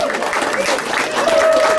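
A crowd gives a brief burst of applause at a live Nashville radio show, with voices and cheering mixed into the clapping.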